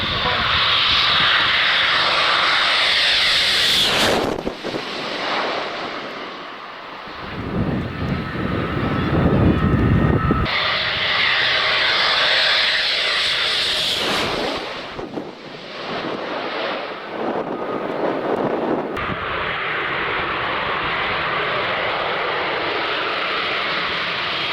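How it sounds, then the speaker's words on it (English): Aircraft fly overhead in a sky full of planes, a loud sustained engine roar buffeted by heavy wind noise on the microphone, with the level swelling and dipping in sections and a voice heard at times. "hey, what do I film? Aircraft in the sky everywhere."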